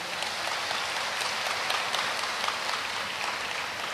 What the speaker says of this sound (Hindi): दरबार के मध्य में जोरदार ताली बजा करके